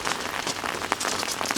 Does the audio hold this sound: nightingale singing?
no